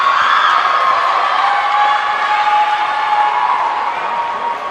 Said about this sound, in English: the fans and her teammates are screaming and cheering her on